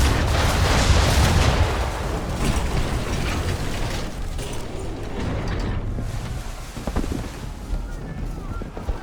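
Naval cannons roar in a broadside from a sailing warship in Assassin's Creed III, a dense, loud rumbling barrage over wind and sea noise with booming bursts, while crew shouts carry over the battle.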